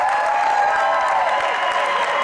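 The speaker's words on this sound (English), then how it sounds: "Huge round of applause to Miss Barbie Decker and Mr. Tommy Mygrant." A round of applause from an audience at a morning event, steady dense clapping with a few tonal voices or whoops mixed in, loud and continuous throughout.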